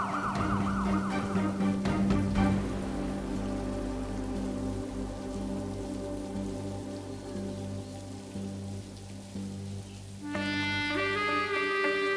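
An ambulance siren wails steadily over a rainy, noisy background, with a brighter tonal burst joining near the end.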